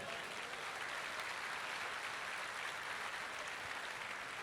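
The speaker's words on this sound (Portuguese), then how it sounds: "aplauda o Senhor com força e alegria" Church congregation applauding at a family conference sermon, a steady dense wash of many hands clapping together, moderately loud and even throughout with no pauses and no voices standing out.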